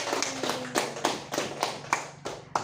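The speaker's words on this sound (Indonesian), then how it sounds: "Tepuk tangan dulu buat Widiawati." A classroom of pupils claps for a classmate, giving a short run of sharp, rhythmic claps at moderate loudness with no talking over it.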